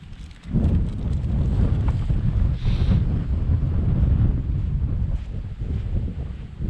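Strong, gusting wind buffets the microphone beside a Scottish loch on a trail, a loud continuous roar with no talk.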